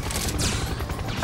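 A blast blowing up the player in the shooter game Serious Sam 3, a dense rumbling burst of low booms and crackling debris filling the short moment, loud and close with no talk.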